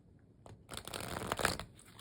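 A quick riffle of oracle cards being shuffled, a soft papery flutter lasting about a second, close and fairly quiet.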